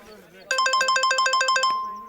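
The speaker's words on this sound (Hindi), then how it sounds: "मेरे वकील का फोन है।" Mobile phone ringtone for an incoming call from a lawyer, a bright rapid electronic chime pulsing in a fast regular pattern for just over a second before cutting off, loud and close.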